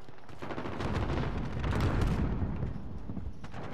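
Gunfire in Call of Duty: Modern Warfare, a dense, noisy stretch of overlapping shots and rattling bursts that peak near the middle, with a steady loud wash of battle sound throughout.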